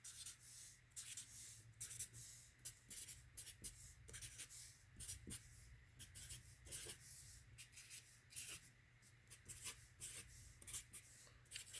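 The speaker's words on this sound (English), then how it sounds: "So using the same elements, let me write them in." Pen or marker scratching on a surface while numbers are written into a set diagram, soft intermittent strokes and taps, close and quiet, with no talking.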